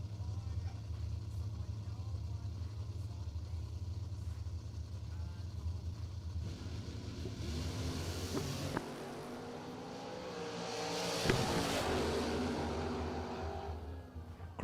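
A dragster and a pickup truck race down a drag strip, engines droning faintly at first, then a louder roaring pass swells and fades near the end, under an announcer's voice.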